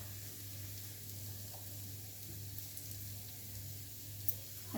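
Thinly sliced cabbage and green peppers frying in a pan over a low gas flame, giving a soft, constant hiss and sizzle at low level with a faint hum beneath and a couple of small clicks near the end.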